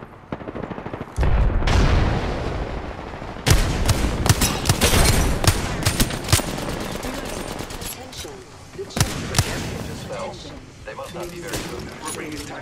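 Loud bursts of video-game gunfire from Apex Legends, including heavy Kraber sniper shots, crack out repeatedly in rapid volleys with booming impacts, and a voice talks over the shooting.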